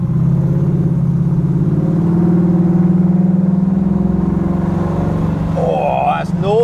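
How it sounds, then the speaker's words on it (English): A Mustang's engine drones loud and close as it pulls past a bicycle, a steady deep hum with a slight swell in the middle and a brief rising whine near the end. "So this Mustang, just listen to this, I'm going to pass this bicycle"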